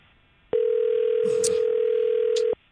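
A steady telephone tone sounds during an outgoing call, a pure unbroken hum lasting about two seconds, clear and close, with faint background voice.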